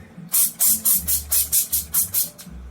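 Cooking spray hisses onto a baking sheet of roasted vegetables in about nine short, evenly spaced bursts, close and loud, with no talk.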